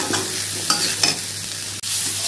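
Hot oil sputters and crackles loudly in a pan as it is tempered for an Assamese amita khar curry, with a steady sizzle right up close. It breaks off for a split second near the end, then resumes.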